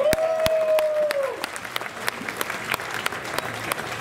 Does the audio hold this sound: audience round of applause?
yes